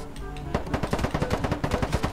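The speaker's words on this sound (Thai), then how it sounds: "เพื่อนไล่ยิงแหลกเลยอ่ะเว้ย" Loud automatic gunfire in a shooter video game, a steady rapid stream of shots that kicks in after a brief lead-in and hammers on without pause.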